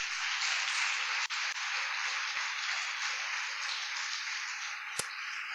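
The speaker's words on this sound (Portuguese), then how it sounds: "Você pode dar um aplauso para Jesus?" An audience at a church gathering claps in a dense, sustained round of applause, steady and fairly loud throughout with no talk over it.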